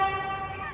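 The horn of a Rivian electric SUV gives a short, steady honk under a second long, thin and reedy in tone, close by and alone without any voices.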